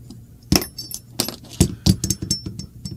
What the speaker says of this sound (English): Go ahead and pull the firing pin retaining pin out,